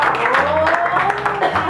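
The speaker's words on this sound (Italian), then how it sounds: "Oh, un applauso." Guests applauding at a birthday party, a brief burst of clapping heard at close range, mixed with voices and lively chatter.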